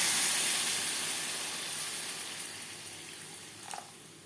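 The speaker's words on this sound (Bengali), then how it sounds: "দিয়ে দেবো জল।" Water pours into a pan of fried potatoes and spices for a thin rui fish curry, a close, soft steady hissing rush that fades gradually, with a small clink near the end.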